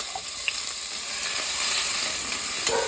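Chopped onion sizzles steadily in hot oil with mustard seeds in a Kerala-style pan, a constant bright frying hiss with a few small pops and crackles, close and alone.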